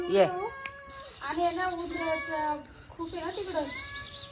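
A cat meows several times nearby, drawn-out and plaintive, interleaved with a person's voice speaking softly.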